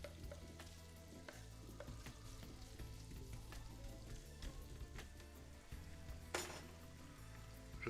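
Onion and lardons fry in a pan with a continuous close sizzle, broken by stirring scrapes and occasional sharper pops.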